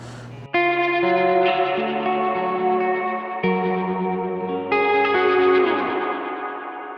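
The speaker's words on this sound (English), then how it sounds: "I feel like the quality of reverb is really cool." Guitar chords played through the reverb on a pedalboard ring out loudly, three strummed chords each sustaining and blooming into a long washy tail, with no talking.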